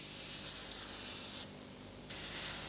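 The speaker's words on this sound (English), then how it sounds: "you're recommended to use a simple garden spray to help track down the" A garden spray hisses water onto an old Ford car to test for leaks, a steady close spray that briefly changes tone partway through, with no talk.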